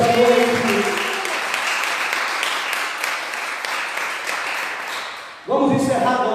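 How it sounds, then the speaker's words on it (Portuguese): A church congregation applauds during an evening service, sustained clapping filling most of the stretch before a voice resumes at the very end. "Só quem crê aplaude e exalta o Rei Jesus nesta noite."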